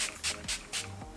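Too Faced Hangover setting spray misted onto a face in four quick hissing bursts, close to the mic, with short pauses between pumps.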